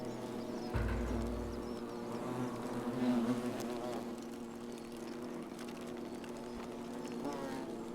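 Bees buzz in The Forgotten City, a Roman-themed video game: a steady insect drone runs through the whole stretch at moderate level, joined by a short low thump near the start and a brief swell partway through.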